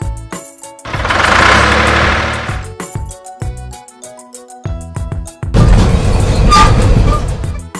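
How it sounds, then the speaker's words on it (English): Cartoon red tractor engine, a loud rumbling burst of roughly two seconds that fades, then after a quiet gap a second loud, rough engine run over the last few seconds, set against light background music. "Red tractor."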